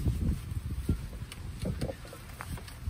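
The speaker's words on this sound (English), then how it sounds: "It's a little windy today" Gusty outdoor wind rumbles and buffets the microphone beside a conversion van, a low, uneven roar with brief louder bursts throughout.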